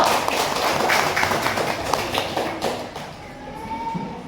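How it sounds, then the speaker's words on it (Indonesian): A group of people in an outdoor school class clap their hands together on a teacher's cue, a dense burst of overlapping claps that thins out and gives way to quieter ambient noise and faint voices. "Tepuk tangan dulu."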